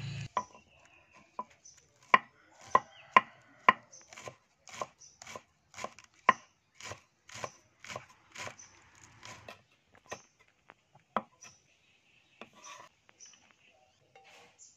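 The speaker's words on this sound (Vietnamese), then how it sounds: "Hành lá thì mình cũng băm nhuyễn ra luôn." Green onions are minced with a knife on a cutting board in a home kitchen: a long series of sharp, evenly spaced chops, close and crisp, speeding up in the middle and thinning out toward the end, with no voice over it.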